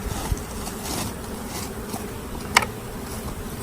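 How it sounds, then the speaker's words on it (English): Honeybees fanning at the entrance of a newly installed package hive, a steady low insect hum with buzzing wings throughout and one brief louder flicker near the end. "you can see that they're fanning"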